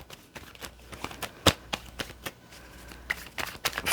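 Tarot cards shuffled during a Scorpio reading, a string of quick papery riffles and taps at close range, uneven in rhythm with brief pauses between bursts.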